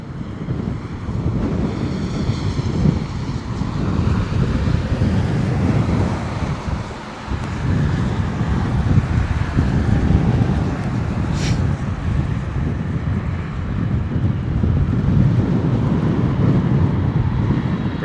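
Strong gusty wind at London Heathrow Airport on a wet day buffets the microphone in a constant rumbling roar, with distant aircraft noise underneath and no talk.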